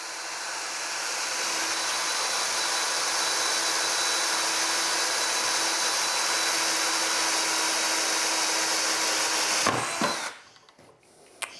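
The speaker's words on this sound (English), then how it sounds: "let the drill do the work for you" A power drill whirs steadily and loudly for about ten seconds while building a betta fish rack, then stops abruptly, leaving a few clunks and a quiet room.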